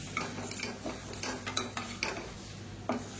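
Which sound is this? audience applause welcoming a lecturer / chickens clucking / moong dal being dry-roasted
moong dal being dry-roasted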